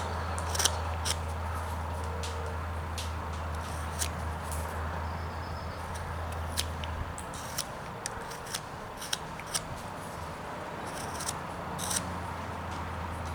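A knife carves a block of wood, with repeated short crisp scraping and slicing strokes, close and fairly quiet over a steady low background hum.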